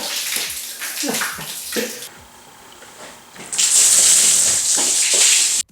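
Water sprays and splashes in an April Fools teddy bear shower prank: irregular splashing and rustling at first, a short lull, then a loud steady gush of spraying water up close.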